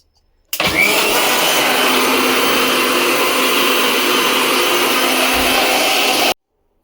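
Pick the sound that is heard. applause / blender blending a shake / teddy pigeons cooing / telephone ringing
blender blending a shake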